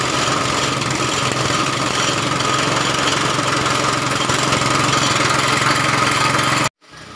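An air compressor motor runs steadily and loudly, filling its tank with air, a constant droning engine-like rumble with a rattling buzz that cuts off abruptly near the end, with no talking.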